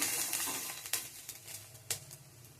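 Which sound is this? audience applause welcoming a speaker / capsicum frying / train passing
capsicum frying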